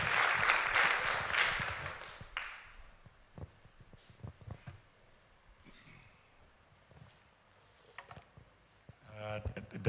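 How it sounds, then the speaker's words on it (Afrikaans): An audience claps to welcome a speaker: a burst of applause for about two seconds that cuts off, followed by quieter shuffling, scattered knocks and some talk. "Kom ons klap met vir hom hande en sê net welkom."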